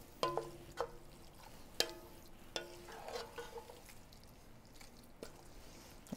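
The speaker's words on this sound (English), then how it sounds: "I'm going to stir all that in. And let this cook down for a little bit." A spoon stirs New Orleans-style mirliton stuffing mixture in a pan, giving a few sharp knocks and scrapes against the pan over a faint, soft sizzle, quiet and close.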